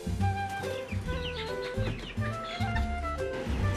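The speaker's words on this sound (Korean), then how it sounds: "17마리 모두 직접 알을 부화시켜 키운 병아리라는데요" Home-hatched chickens clucking indoors, a busy, continuous mix of soft clucks and chirpy calls from several birds close by, overlapping with a steady low background rumble.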